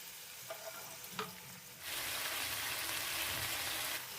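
Onions frying lightly in a pan for a chicken curry, a soft sizzle that jumps to a steady, louder hiss partway through as something hits the hot oil.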